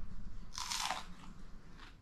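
A crunchy first bite into cooked fish gives one loud, close crisp crunch, followed by a softer crunch about a second later, with no talking.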